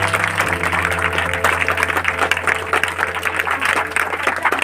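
A church congregation claps loudly and rhythmically during a Christian worship service, the quick claps layered over a sustained droning musical tone that runs the whole time.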